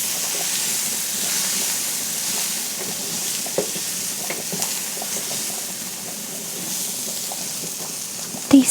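Onions sautéing in a pan for homemade spaghetti sauce give off a steady, close sizzle and crackle, with a few soft stirring clicks and a brief louder knock at the end.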